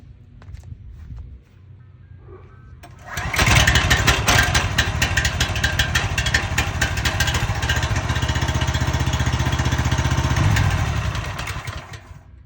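The gasoline engine of a Dewalt 4400 psi pressure washer catches after quiet fiddling and then runs loud and steady with a buzzing, rattling roar for about eight seconds before easing off slightly.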